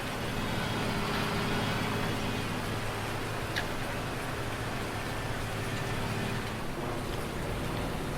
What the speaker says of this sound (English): yeah, it ain't stopped raining.